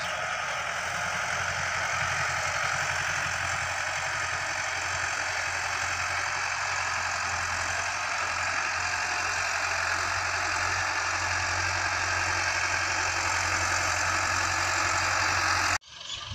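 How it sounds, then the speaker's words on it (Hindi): Tractor engine runs steadily at close range while ploughing a paddy nursery field, a continuous low chugging drone with a knocking edge that holds for the whole stretch before cutting off abruptly at the end. "वहाँ पे हम जो है वो ट्रैक्टर के साथ हल चला रहे हैं।"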